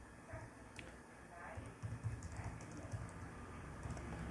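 Light typing on a computer keyboard, soft scattered keystrokes heard faintly through a muffled background of room noise and possible murmuring.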